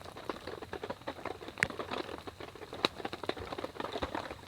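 Snow melt drips steadily onto a small tent during a winter snowstorm, a dense, irregular patter like rain on the fabric, close and soft, with a few sharper drops standing out.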